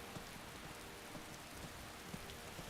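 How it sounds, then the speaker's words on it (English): Steady rainfall in Skyrim, a dense, even hiss of drops pattering on surfaces with no pauses, alone and moderately quiet throughout. "I'm sure the rain will cut out, actually, as we head down the back end of Whiterun."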